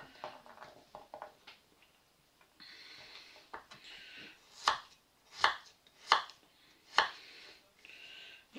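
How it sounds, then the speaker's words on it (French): Knife chopping garlic into small sticks on a board: a few soft cuts, then four or five sharp, evenly spaced chops close by, with light handling noise between. "On fait des petits bâtonnets d'ail."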